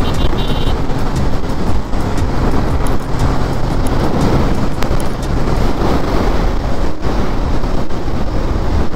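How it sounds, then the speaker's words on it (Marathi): A car cruises at speed along the Mumbai-Goa highway, producing a constant, loud roar of road and engine noise with wind buffeting the microphone throughout. "100 अशी 100 जाते गाडी"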